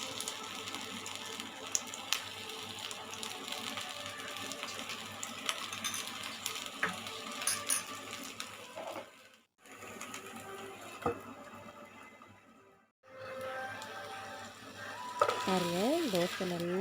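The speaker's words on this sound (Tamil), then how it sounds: "எண்ணெய் விட்டு ஒரு 5 நிமிஷம் மூடி வேக வச்சிடலாம்" Rava dosa, also called sooji dosa, cooks in a little oil on a hot pan with a steady, close sizzle and crackle. The sizzle drops out briefly twice, and a faint voice is heard near the end.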